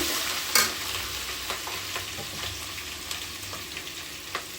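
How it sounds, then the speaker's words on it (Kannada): Grated ginger stirred into a hot frying pan for avarekalu chitranna, a soft steady sizzle with a sharp scrape near the start and light intermittent clicks of the spoon, close and fairly quiet. "ನೋಡಿ ಇವಾಗ ತುರಿದಿರೋಂಥ ಶುಂಠಿ ಕೂಡ ಜೊತೆಗೆ ಹಾಕ್ಕೊಳ್ತಾ ಇದ್ದೀನಿ ಚೆನ್ನಾಗಿ ಒಂದ್ಸತಿ ಮಿಕ್ಸ್ ಮಾಡ್ಕೊಳ್ಳಿ"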